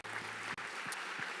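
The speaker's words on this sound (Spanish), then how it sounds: "¿Cuántos le dan un fuerte aplauso al Señor?" A church congregation claps during a Spanish-language sermon, a faint, distant patter of applause with a couple of brief dropouts.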